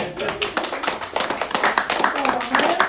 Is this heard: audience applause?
yes